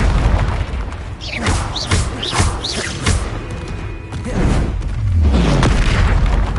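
Confringo spell blasts in the Hogwarts Legacy video game, a series of booming explosive impacts with whooshing casts between them, loud and close amid ongoing combat effects.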